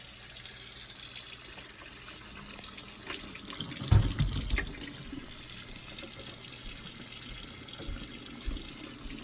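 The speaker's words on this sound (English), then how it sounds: "come with me to the sink so we can wash our hands" A sink tap runs steadily for hand washing, a continuous close hiss of water with a brief louder gush and splash partway through.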